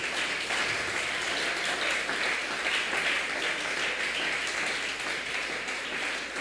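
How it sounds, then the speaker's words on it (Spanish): A church congregation gives steady, sustained applause, a continuous wash of many hands clapping at moderate distance for several seconds with no break. "¿Cuánto podemos darle un fuerte aplauso al Señor?"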